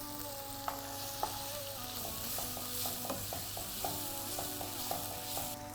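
Shrimp with lemongrass frying over a full flame makes a loud, constant sizzle, with repeated metallic taps and scrapes of stirring spaced through it.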